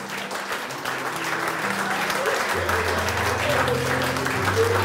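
A church congregation applauds steadily and loudly throughout, a dense wash of clapping from many hands, with music sustaining underneath.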